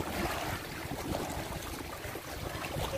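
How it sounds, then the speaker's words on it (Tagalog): Rough sea at a fish pen at night: a continuous wash of choppy water and surf noise, fairly faint and steady, with no voices. "Nakita niyo talaga pag maalon yung dagat. Sobrang alon ngayon."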